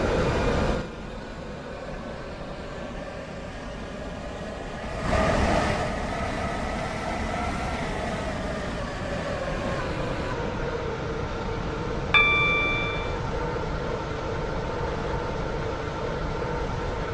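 A Connect train in the Roblox game Stepford County Railway hums steadily with a continuous engine drone, shifting in pitch as it runs, and a brief high tone sounds near the end.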